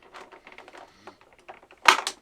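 Plastic figure packaging being cut and pried open by hand, a run of small clicking, snipping and crinkling sounds ending in a louder burst of scraping close up.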